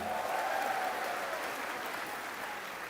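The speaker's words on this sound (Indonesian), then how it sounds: "Boleh beri tepuk tangan untuk Ubah Bareng." A crowd applauds at a public Desak Anies gathering in Jogja, a soft, distant, continuous patter of many hands that tapers slightly toward the end.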